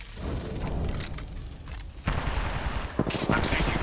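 Apex Legends gunfire comes as rapid automatic bursts and sharp shots that cut in abruptly midway and continue to the end, over a steady game background, with faint voice chatter.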